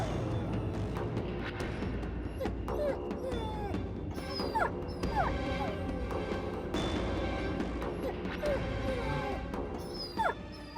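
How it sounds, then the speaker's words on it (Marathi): A dog cries and whimpers in front of a house, thin high whines and yips scattered across a busy background with voices talking throughout. "कुत्र्याचं रडणं तर अपशकुन मानतात."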